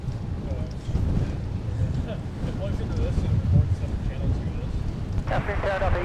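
Gusty wind buffets the microphone outdoors at Minneapolis–St. Paul airport, a steady loud rumble with surges, while a faint voice talks in the background.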